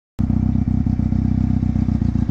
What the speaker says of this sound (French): ça va être l'occasion de rouler un peu la moto aussi